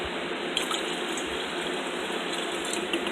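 Tap water running steadily into a container of soaking almonds, a constant close hiss and splash with faint drips, no voices.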